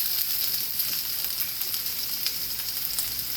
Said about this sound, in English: I'm gonna go ahead on and add some olive oil to the pan. Then I'm going to add some of my onions,